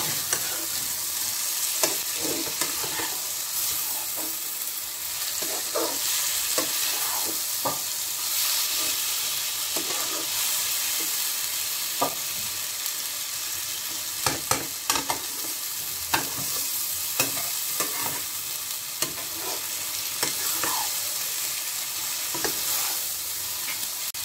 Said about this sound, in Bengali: আগে থেকে ভেজে রেখেছি, সবগুলি নরম আছে, একটু ভাজা ভাজা করব মশলাটা।